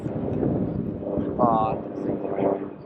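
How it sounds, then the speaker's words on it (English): A passing airplane heard from aboard a Jeanneau Sun Odyssey 50DS sailboat, a steady low engine drone that swells slightly over a few seconds, with people talking over it. "Should we wait for the plane to go on for us?"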